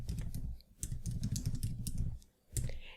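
Quick, fairly soft typing on a computer keyboard, a rapid patter of key clicks in two runs separated by a brief pause.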